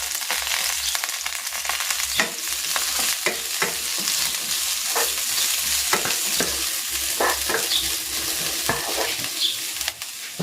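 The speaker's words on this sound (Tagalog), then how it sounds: "Igigisa ko na rin dito itong sibuyas." Onion sautéing in a pan for sotanghon soup, a steady loud sizzle with scattered scraping stir strokes and clicks of the utensil throughout.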